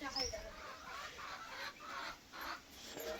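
Chickens cluck faintly in a few short bursts, heard at a distance against quiet background noise.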